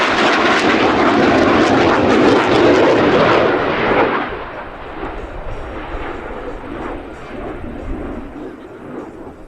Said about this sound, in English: our U.S. Navy F-18 Super Hornet comes in on final approach